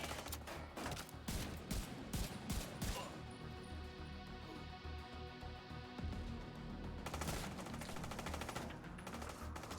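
Rapid automatic blind fire in Division 2 rattles in dense bursts, pausing briefly in the middle before the shooting resumes, heard at a low, distant level without talk.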